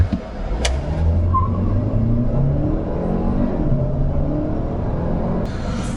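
An Audi A3 40 TFSI mild-hybrid engine drones and climbs in pitch as it revs to high rpm, heard steadily from inside the cabin with a low road rumble underneath.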